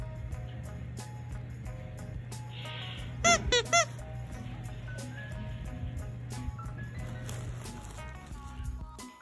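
A dog's squeaky toy gives a short burst of three or four quick, sharp squeaks in a quiet indoor room, with a steady low hum running underneath throughout.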